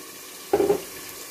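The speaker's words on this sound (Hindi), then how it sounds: "और अब हम इसमें ऐड करेंगे पानी।" Water is added to a pot of beef kofta curry with potatoes and green chilies, making a single short splash and gurgle of about a quarter second against a quiet kitchen background.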